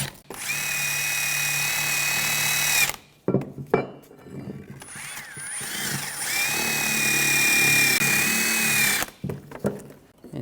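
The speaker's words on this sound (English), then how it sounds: "I'm just using a wire brush. We just want to clean up any of the corrosion." Wire brush scrubbing corrosion off a 2013-2019 Ford Escape front brake caliper bracket, a loud steady power-tool whir running about three seconds, then short bursts, then a long continuous run before stopping.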